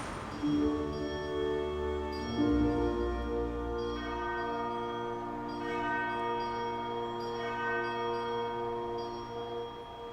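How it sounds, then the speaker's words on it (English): Dawn bells from the Act III prelude of Puccini's opera Tosca: a dense wash of sustained, overlapping bell tones with long ringing harmonics over low orchestral notes, fairly loud and steady throughout without any voices. "listen to the effect of the dawn bells"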